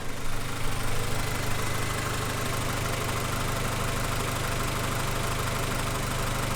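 A freshly refreshed Honda B18C engine idles steadily, a loud, continuous and even drone close to the car with no change in pace and no voices.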